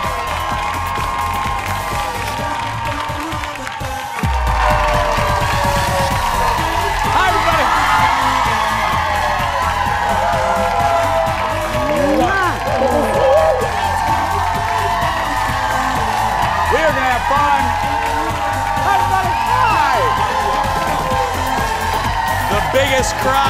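A packed studio audience at a morning show cheers, whoops and claps loudly and continuously. The din swells in after a brief quieter opening and holds steady to the end.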